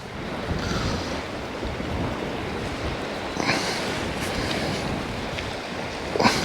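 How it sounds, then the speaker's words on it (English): Gusty wind buffeting the microphone over the wash of sea waves on the Bristol Channel coast, a constant rough roar with occasional stronger gusts. "a bit windy today."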